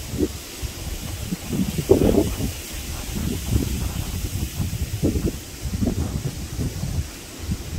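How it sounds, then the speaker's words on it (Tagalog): Strong wind buffets a handheld phone microphone, producing low rumbling gusts and steady hiss throughout with no voices. "Malakas po yung hangin na halos tinatangay po yung cellphone ko"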